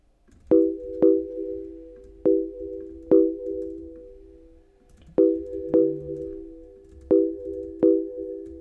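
A house music synth with saturation plays short tonal stabs in a repeating rhythmic pattern, each with a sharp attack and a decaying tail. It is clear and prominent, alone without talk, with a brief lower note midway.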